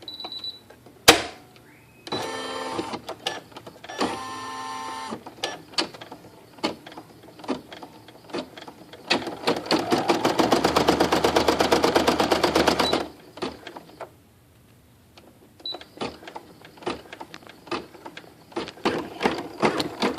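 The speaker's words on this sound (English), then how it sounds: "I'm going to start stitching the second part of the design" An embroidery machine stitches the second part of a split design, producing bursts of rapid mechanical needle clatter with short pauses between runs and a longer dense stretch near the middle.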